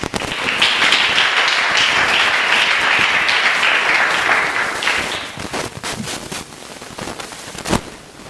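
Loud church congregation applause during a standing prayer service, a thick wash of clapping for about five seconds that then thins into scattered individual claps and a few sharp louder ones near the end.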